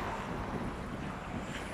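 Fresh, not very cold wind blowing outdoors through a city street in winter, a steady broadband rush buffeting the microphone for the whole short stretch, with no talk.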